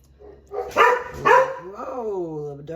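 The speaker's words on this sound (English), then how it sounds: "doggies are barking." Dogs barking outdoors nearby, two sharp barks followed by a drawn-out whining yelp, heard under and alongside a person's voice while tomato sauce is being prepared.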